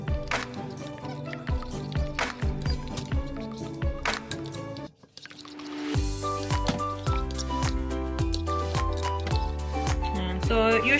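Pichi pichi batter stirred in a bowl, wet squishing and clacking of a utensil against the bowl in quick irregular strokes, close up, with a brief pause midway.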